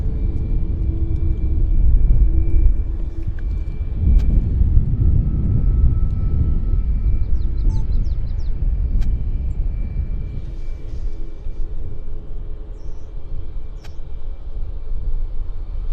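An inbound airliner from Incheon, Seoul lands at Vancouver airport, heard as a steady, deep rumble that swells near the start and then holds as a broad, continuous roar with no voices.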